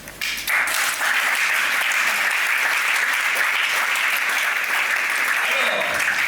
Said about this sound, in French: Veuillez acclamer pour la présence de ceux qui sont ici.